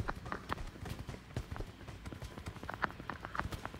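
Horse hooves clip-clop in a steady, fairly quick rhythm inside the PUBG Mobile video game, a run of light, evenly spaced thuds at moderate level with no talk over them.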